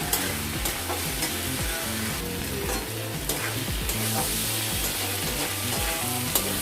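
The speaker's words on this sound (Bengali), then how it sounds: "এবার একটু ভালো মতো করে নাড়াচাড়া করে নেব।" Small piul fish chorchori with potato and pointed gourd is stirred in a sizzling pan, rhythmic spatula scrapes and knocks repeating over a steady frying hiss, close and fairly loud with no talk.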